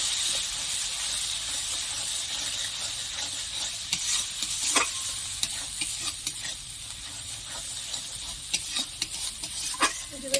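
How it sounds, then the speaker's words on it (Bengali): Prawns and pointed gourd sauté with Kashmiri chilli powder, a continuous crackling sizzle broken by frequent spatula scrapes and taps against the pan, close and fairly loud with no talking. "দিয়ে দিলাম কাশ্মীরি লঙ্কার গুঁড়ো এটা আমি বেশ ভালো করে কষে নেব"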